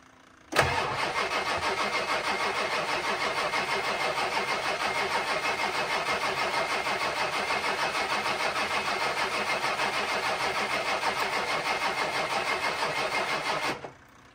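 A 7.3L Powerstroke diesel engine cranks steadily on a new starter without catching, a fast, even rhythmic churning that runs loud and close for about thirteen seconds before stopping abruptly.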